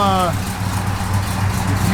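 A 1968 Plymouth Road Runner engine running, a deep steady low rumble close by, with a voice speaking briefly at the start.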